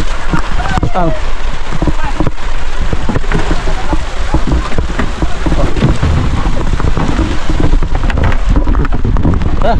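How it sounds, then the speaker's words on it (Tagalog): Steady rain hisses throughout, with voices talking over it and occasional knocks and rustles nearby. "Ulan na."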